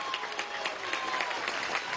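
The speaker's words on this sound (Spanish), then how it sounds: "pido un aplauso para Mimú Vargas, secretario general del Movimiento por la Paz y la Vida." An audience claps at a youth march rally received at the Miraflores presidential palace in Venezuela, a dense, steady burst of crowd applause filling the whole moment.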